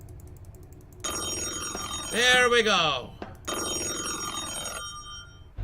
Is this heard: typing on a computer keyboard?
no